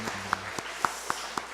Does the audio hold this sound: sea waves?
no